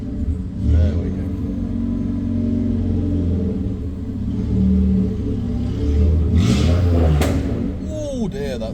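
A Peugeot 106 1.1i with a straight pipe exhaust rumbles with a deep, loud, throbbing drone, swelling in a few short revs close by.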